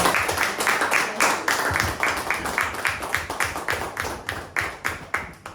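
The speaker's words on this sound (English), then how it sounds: "Give a big round of applause to debaters." A roomful of people gives a round of applause after a work-from-home versus work-from-office debate at a club meeting, with steady, fairly rhythmic claps that stay consistent throughout.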